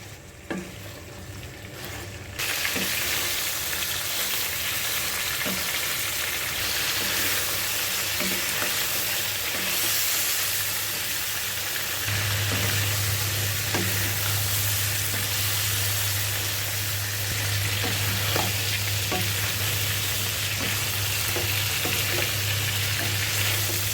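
Marinated duck meat for curry fries on medium heat in a steady, close sizzle lasting throughout, with occasional stirring clinks and scrapes and no talking.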